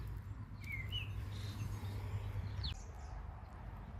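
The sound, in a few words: bird singing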